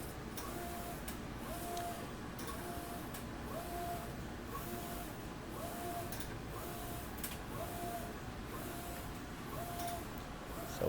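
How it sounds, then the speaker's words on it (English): A CTS i-Image STE computer-to-screen imager prints a screen, a low steady mechanical hum with a soft tone repeating roughly every second and a half throughout. "So once it finishes printing, you can actually see it slide back there and it'll expose it."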